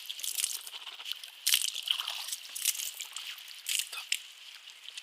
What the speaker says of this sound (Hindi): कुल्ली करने में एहतमाम करें ताकि मुंह के अंदर पानी अच्छी तरह घूमे और अच्छी तरह सफाई हो।